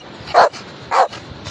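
A dog barks twice, two short, clear barks about half a second apart, nearby, with faint background noise between them.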